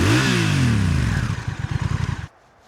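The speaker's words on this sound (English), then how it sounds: "start it up first, hadn't it, so you can have a good listen." Honda CMX1100 DCT motorcycle engine cranks and fires up loud and close, a rising rev then a lumpy, pulsing idle through a big tailpipe before cutting off abruptly.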